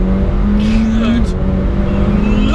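A McLaren 720S sports car accelerates hard with a loud, steady engine drone that climbs in pitch then shifts gear and pulls on, heard from inside the cabin with someone talking over it.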